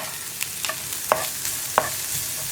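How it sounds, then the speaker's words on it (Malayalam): Green chillies stirred into onions frying in a pan for a mixed veg raita, a steady soft sizzle with a few sharp scraping clicks of the spoon at irregular intervals, close and fairly quiet. "ഇതിലേക്ക് നമുക്ക് പച്ചമുളക് ചേർത്ത് കൊടുക്കാം."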